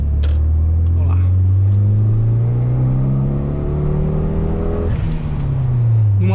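A Mitsubishi Eclipse GS-T engine drones steadily while driving, its low hum rising slowly in pitch and then settling, with someone speaking over the cabin noise.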